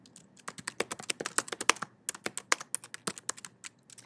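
Rapid keystrokes on a computer keyboard, close and crisp, in irregular bursts of clicking with brief pauses, entering a task into a task list app, no voices.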